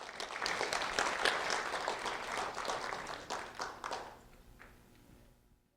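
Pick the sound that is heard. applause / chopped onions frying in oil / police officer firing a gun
applause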